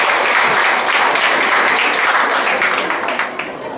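Steady crowd applause at the opening ceremony of the Insadong art fair, a dense wash of clapping from an assembled audience that holds for several seconds and tapers slightly at the close.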